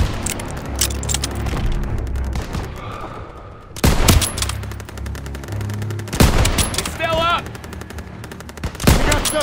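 Bursts of heavy gunfire in a Call of Duty: WWII battle: loud rapid machine-gun strings and single shots in several close volleys, with booming impacts, shouted voices and a short whistling sound in between.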